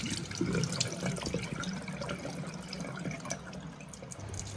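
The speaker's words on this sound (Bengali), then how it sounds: "যে মুগ ডালটা ভিজিয়ে রেখেছিলাম সেটা ভালোভাবে ধুয়ে নিচ্ছি খুব ভালোভাবে জল পাল্টে পাল্টে দু তিনবার এটাকে ধুয়ে নিতে হবে" Soaked mung dal being rinsed in water, with a steady close splashing and running-water wash continuing throughout.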